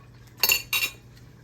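Fork and knife clinking against a plate while eating fried shrimp: two short bright metallic scrapes and clinks close by, in an otherwise quiet room.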